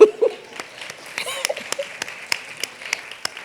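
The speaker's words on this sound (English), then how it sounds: "Let's give him a round of applause" Scattered applause rises at a university School of Education pinning ceremony, a thin, moderate patter of clapping hands in a large room with a few sharper claps standing out.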